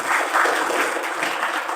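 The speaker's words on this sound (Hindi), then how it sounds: "अपने भाग्य के लिए भी सभी ताली बजाएंगे" Audience applause at a youth day honour ceremony, a steady crowd of hands clapping loudly and continuously throughout with no voices on top.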